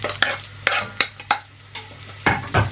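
Onions being stirred and fried in a new saucepan, with repeated bursts of sizzling and scraping strokes over a steady low hiss, close and fairly loud with no talking.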